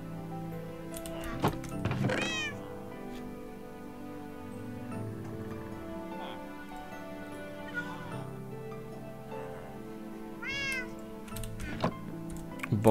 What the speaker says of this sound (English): They're so noisy, the cats.